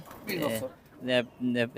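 Pet pigeons coo in a row of soft, throaty calls close by, heard amid speech in a small rooftop pigeon-keeping setting.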